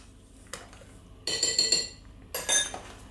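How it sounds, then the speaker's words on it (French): A utensil scrapes and clinks against a bowl as an egg, vegetable and olive mixture is stirred, in two bursts of close, bright clattering separated by brief quiet. "On mélange à nouveau."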